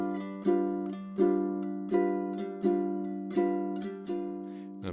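A ukulele plays a swing strum, with sustained chords ringing throughout and regularly spaced, accented downstrokes standing out from lighter upstrokes, close and clear with no talking.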